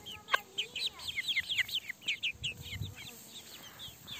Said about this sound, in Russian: Петушок.